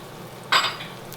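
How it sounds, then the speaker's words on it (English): A spatula scrapes egg and ham around a frying pan while making an omelette, one short bright scrape that fades quickly into a faint kitchen background. "Use a spatula to scrape it all out."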